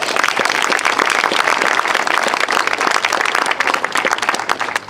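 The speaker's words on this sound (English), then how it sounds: "please give him a particular round of applause" Sustained audience applause at an outdoor statue dedication ceremony, many hands clapping steadily and loudly for the full length, then easing slightly at the end.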